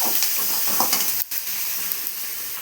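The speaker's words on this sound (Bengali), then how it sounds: "এরপরে এখানে দিয়েছি পেঁয়াজ, টমেটো, রসুন কুচি, কারি পাতা।" Onion, tomato, chopped garlic and curry leaves fry in a pan with a steady, close hiss and sizzle, broken by a few small crackles and one brief dip in the noise.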